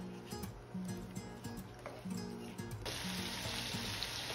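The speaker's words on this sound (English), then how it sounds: "in a large frying pan, add olive oil, sausage, tomatoes, oregano, hot pepper flakes and salt, garlic, basil leaves, and thyme" Sausage, tomatoes, oregano, garlic, basil and thyme frying in olive oil in a large pan over medium heat give a steady, close sizzle that brightens partway through, with a faint murmur of voice underneath.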